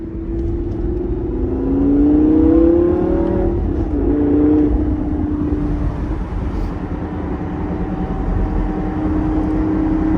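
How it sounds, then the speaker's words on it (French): Lamborghini Gallardo engine heard from inside the car, revving and rising in pitch through gear changes with the throttle eased between shifts, a steady loud drone with road and wind noise underneath. "quand vous passez les vitesses, de relâcher un peu l'accélérateur pour préserver l'embrayage, en fait, ça donne ça"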